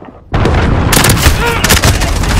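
A missile launch in Call of Duty: Modern Warfare bursts in abruptly as a loud, close roaring blast that keeps rumbling and hissing steadily for a couple of seconds.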